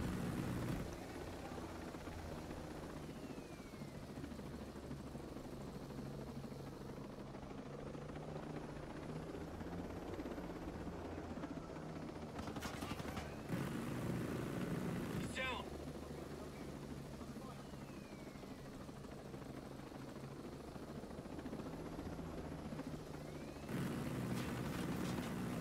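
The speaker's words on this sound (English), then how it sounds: "Kill that drone." In the shooter Ghost Recon Breakpoint, an enemy drone hums and whirs steadily for the whole stretch, a continuous rotor-like drone under intermittent voices, with brief bursts of gunfire and impacts cutting in partway.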